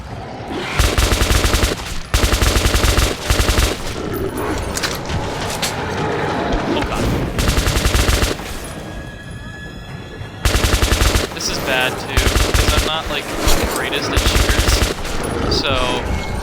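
Sustained automatic weapon fire in Metro 2033 comes in loud, dense bursts of rapid shots, with a short lull in the middle before the shooting resumes, and a voice speaks under the gunfire.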